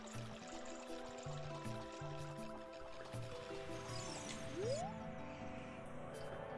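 Link dives into water in the video game Zelda Ocarina of Time, a soft splash and liquid sounds against steady game music, with a rising swoosh near the end.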